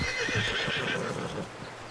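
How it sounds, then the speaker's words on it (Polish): A horse in the video game Red Dead Redemption 2, struggling in water and close to drowning, lets out a loud, close whinny over hoof clip-clops, and the noise fades somewhat toward the end with no talking. "no koń mi zaraz utonie!"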